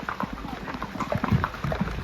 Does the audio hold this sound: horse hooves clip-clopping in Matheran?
yes